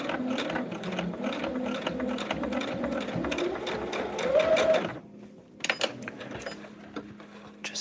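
A sewing machine stitches a dahlia table topper in two bursts of rapid, close mechanical clatter, the first longer and rising slightly in pitch, with a short pause before the second.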